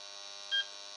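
A steady, buzzy electrical hum comes from a distorted mains signal passing through a voltage stabilizer, with a brief, brighter tonal blip partway through. No voices.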